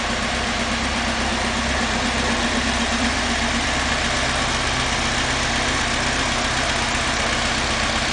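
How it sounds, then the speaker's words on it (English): A 1977 Alfa Romeo Spider S2 engine idles steadily with a deep, even exhaust rumble and low vibration, constant throughout with no speech. "it's not a horrible blary exhaust, it just gives a lovely tone"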